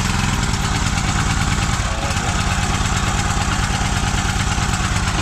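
Generator engine running again after sitting stuck for about two years, a loud, close, steady chugging drone with even rapid pulsing throughout and no pauses.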